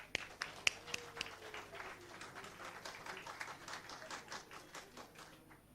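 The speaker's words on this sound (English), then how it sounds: "a huge round of applause" Applause rises from a college event audience, starting with a few sharp nearby claps and swelling into a quieter, scattered round of clapping, fairly faint overall.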